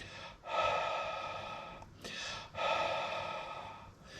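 Someone breathing onto a temperature sensor while testing an engine ECU's inputs: two close, airy breath bursts separated by a short pause, soft and breathy with no talk.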